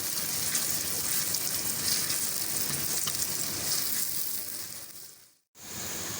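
Chopped onions fry in a pan for a light-brown potato and gram-flour dish, giving a steady, loud, dense sizzle that runs continuously and then cuts out briefly near the end before resuming.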